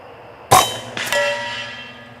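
A .25 caliber Air Force PCP air rifle fires at a 100-yard target: one sharp, loud crack, then a second clanging impact about half a second later, with a ringing metallic tail fading out.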